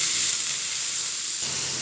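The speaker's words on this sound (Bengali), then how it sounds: "প্যানে তেল দিয়ে আমি পেঁয়াজ আর মরিচটা দিয়ে দিয়েছি ভাজার জন্য।" Onion and chili frying in oil in a pan, a soft, steady hiss of sizzling with no talking, faint and brief.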